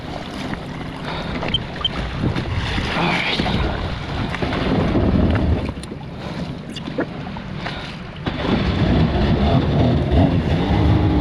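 1995-96 Sea-Doo XP jet ski backing out in reverse to clear sand and rocks from its pump, a loud steady engine drone and water churn with wind buffeting the microphone, surging louder near the end.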